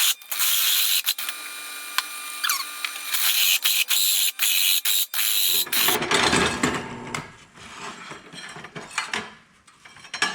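A hole saw cutting a hole for an ammo can console in a Scout off-road vehicle, loud grinding and whirring that runs steadily, cuts out briefly several times, then turns rougher and rattling near the end.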